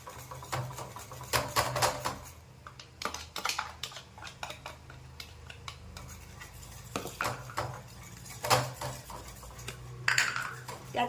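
Chickpea flour batter being stirred in a pan while cooking patvadi, heard as irregular scraping and clinking of a utensil against the pan in uneven bursts, close up with no talking.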